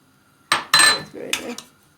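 Salted, freshly washed pumpkin seeds stirred in a pan on the stovetop, giving a few close, loud scraping and clinking bursts of utensil against metal, in separate strokes.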